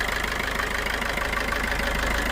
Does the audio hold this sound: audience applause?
no